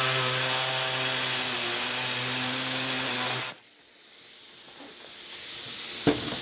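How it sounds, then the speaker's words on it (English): An air-powered reciprocating hacksaw trims excess edging off a mold: a loud, steady buzzing cut with a strong hum runs for about three and a half seconds, then stops abruptly, leaving quiet room noise and one faint click. "So I just use an air hacksaw, makes it real easy."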